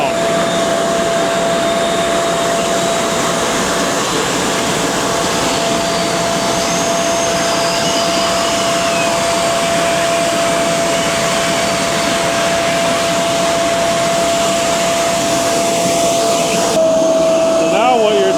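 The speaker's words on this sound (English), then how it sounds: "when that blow-off hose comes around and blows the seed off" A potato planter's blow-off hose blows seed potatoes off into the ground during field planting, a steady loud rushing air noise with a constant whine running through it, mixed with machinery drone from start to finish.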